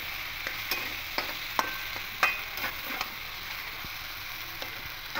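Spatula stirring poppy seed paste with green chili into ridge gourd and potatoes in a pan, soft scraping strokes and clicks of the utensil over a faint, steady sizzle, close and fairly quiet.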